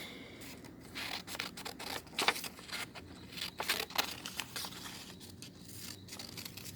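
Scissors cut out a Tim Holtz fragment tile piece, giving a run of close crisp snips and papery crinkling in irregular bursts over quiet room tone.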